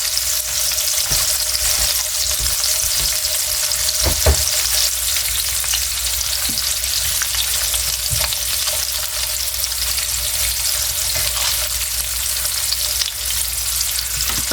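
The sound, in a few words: food frying in a pan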